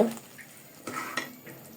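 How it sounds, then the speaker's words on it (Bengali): Layer chicken and cut potatoes are stirred in a pan with special masala, giving a soft sizzle under a few close scraping strokes of a spatula, with no talk. "আলু দিয়ে আবারও কিছুক্ষণ কষিয়ে নেব"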